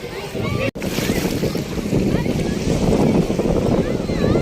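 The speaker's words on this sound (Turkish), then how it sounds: "Dalgalar bak geliyor" Sea waves wash and surge in a steady, broad roar with heavy wind buffeting the microphone outdoors by the water, briefly cut by a sharp dropout early on.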